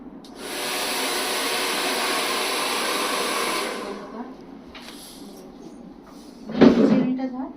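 An electric hair clipper runs with a steady whirring buzz for about three seconds during haircut practice, then cuts off, leaving quieter handling noise and a short burst of a close-up voice.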